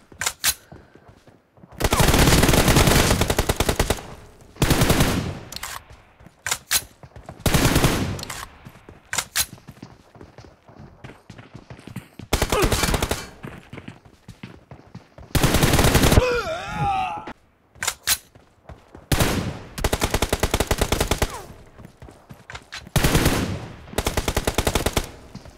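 Automatic gunfire in a one-handed 1v1 shooter video game, loud bursts of machine-gun fire repeating every second or two across the whole stretch, with short quieter gaps between volleys.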